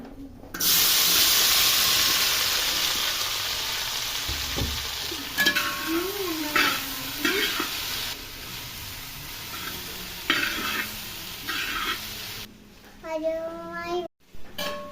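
Chopped jackfruit frying in ghee in a pan, stirred with a utensil: a steady sizzle with intermittent scraping strokes, fairly close, and a brief voice near the end.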